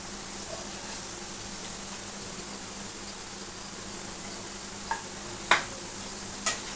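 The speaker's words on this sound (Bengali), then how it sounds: "এটা নিয়ম হচ্ছে একটু গ্যাসটা কমিয়ে কমিয়ে ভাজবে" Chicken kebab sizzling quietly in a pan on low gas, a constant hiss broken near the end by two or three small metallic taps.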